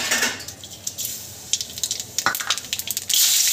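Black cumin and green chilies hit hot oil left over from frying fish, giving a close, bright crackling sizzle with a few clinks of utensils, then a louder burst of spitting near the end.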